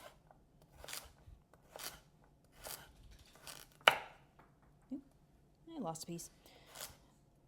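A knife dices a carrot on a cutting board with a series of sharp chopping strikes at a slow, uneven rhythm, one louder crack in the middle, and a person talks briefly.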